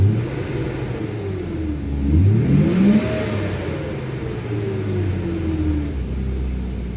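A car engine revs up from idle, its pitch climbing and holding high before easing back down toward a low idle, with a steady rumble throughout; the engine had been running oddly.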